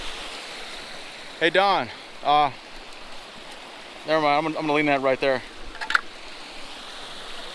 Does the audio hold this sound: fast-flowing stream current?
yes